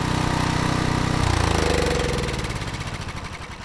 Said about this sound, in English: I have a recording of my dad's snowblower that I've been hoping to use.